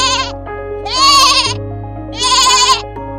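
A goat bleats twice in a cartoon story, two loud, drawn-out wavering cries spaced about a second and a half apart, close and clear over a faint steady background tone.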